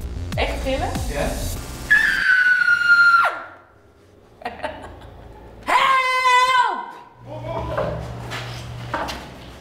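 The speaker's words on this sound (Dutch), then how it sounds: "Moet ik nog een keer gillen? Echt gillen?" A person screams for help in two long, loud, high-pitched cries during a staged rescue game, with voices talking before, between and after.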